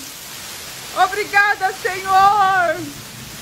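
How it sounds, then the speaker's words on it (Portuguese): Heavy, wind-driven rain in the Pantanal makes a steady broadband hiss throughout. Someone speaks excitedly over it. "não dá nem pra catar água da chuva, o vento leva longe"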